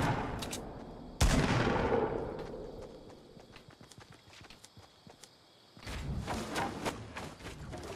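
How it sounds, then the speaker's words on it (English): Gunfire in the Fortnite video game: one loud sharp shot rings out and decays, followed by a scattered patter of steps and small impacts, then a fresh burst of noisy firing and clatter, with no talking. "Somebody's shooting me."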